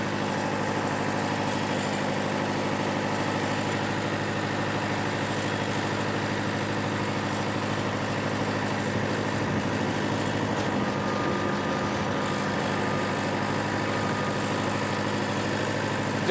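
Vehicle engine catching after a tow start and settling into a steady low idle, loud and continuous with a constant rumble throughout, no talk.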